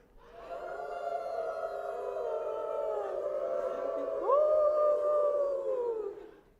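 Two groups of people at a health forum imitate wolves, joining in a long, sustained chorus of rising and falling howls that swells and glides upward near the end, fairly loud and steady.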